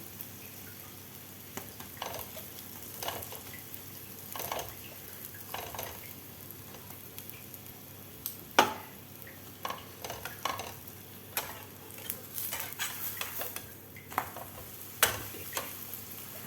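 A khichdi paratha fries in a little ghee on a pan, a quiet, even sizzle broken by scattered soft clicks and scrapes of a spatula turning and pressing it.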